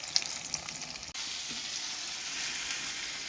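Fish pieces for fish pickle fry in hot oil over a traditional wood stove, giving a steady, dense sizzle with a few light clinks of stirring at the start.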